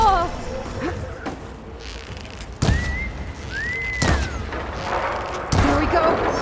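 Enemy fire aimed at the player in Horizon Forbidden West lands as sharp, loud impacts at intervals, mixed with thuds and booms amid game effects, without any talk.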